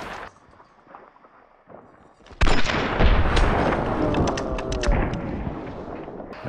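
Gunfire in a video game firefight erupts after quiet moments, a loud blast opening into a dense, rumbling barrage of shots and echoing booms that slowly fades.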